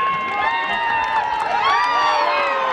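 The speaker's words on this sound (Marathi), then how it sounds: "टाळ्या होऊन जाऊ द्या. जोरदार अतिशय यांच्यासाठी." A lively crowd cheers and whoops throughout at a local premier league cricket semi-final, the roar steady and loud with shrill voices rising over it and little distinct clapping.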